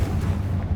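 Confringo fire blast spell exploding in Hogwarts Legacy: a short, loud, dense burst with deep booming low end, lasting under a second with no voices.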